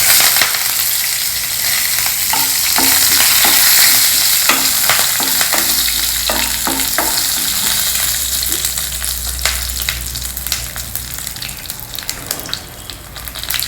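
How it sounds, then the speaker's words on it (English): Mustard seeds, urad dal, jeera and curry leaves crackle and sizzle in hot oil, a loud, dense frying hiss with scattered popping and a few stirring scrapes. "Add some mustard seeds, urad dal, jeera, a few curry leaves,"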